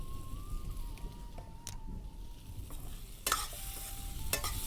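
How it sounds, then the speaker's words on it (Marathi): Sliced air potato and crushed peanuts are stir-fried in a pan, giving a steady soft sizzle with scraping stirs and a few sharper clinks of the spatula. "ते चांगलं मिक्स करून घ्यायचं पाच मिनटं परतून घ्यायचं"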